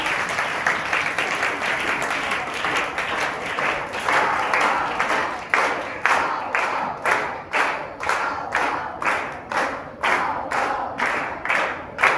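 A school audience claps loudly to welcome student performers onto stage for an anti-drug awareness play, dense applause at first, then breaking into rhythmic, synchronized clapping that continues steadily.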